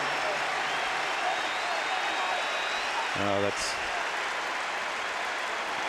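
Basketball arena crowd gives sustained applause as Redick leaves the Duke vs LSU Sweet 16 game, a dense steady roar of clapping throughout, with a brief spoken word briefly heard over it.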